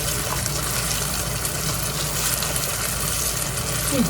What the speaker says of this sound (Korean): 물 한 컵 넣을게요